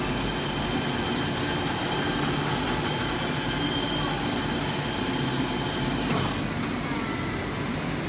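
A HydMech S20P band saw runs a cut cycle with a steady, loud mechanical drone and hum, the tone shifting slightly near the end.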